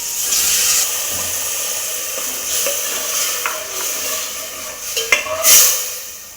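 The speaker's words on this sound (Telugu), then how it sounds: "చింతపండు పులుసు కూడా పోసుకుందామండి." Tamarind extract is poured into a hot pot of pumpkin stew, raising a close sizzling hiss with soft stirring scrapes and a sharper flare of sizzle near the end.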